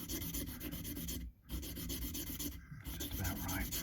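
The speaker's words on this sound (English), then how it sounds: "So I'm just going to sand this back a little bit," Hand sanding on a Fender Mexican-made Stratocaster, rounding off sharp edges, with steady close rasping strokes that break briefly twice.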